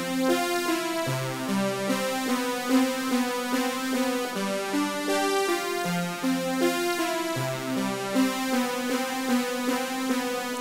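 Keyboard synthesizer playing the bridge sequence of a song, a bright buzzy repeating pattern with a low bass line stepping between chords, steady and alone.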